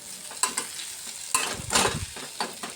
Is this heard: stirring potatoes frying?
yes